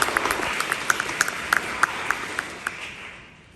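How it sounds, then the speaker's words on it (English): Scattered audience clapping at the Miss Indian Northwest Pageant powwow event: a thin patter of separate claps from a modest crowd, gradually thinning and fading out. "Let's give him a round of applause."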